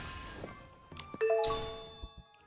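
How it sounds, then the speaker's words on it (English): A bell rings once in the video game Infinity Nikki, a clear ringing tone with harmonic overtones that starts bright and decays slowly over about a second, following a few soft thuds. "Bell."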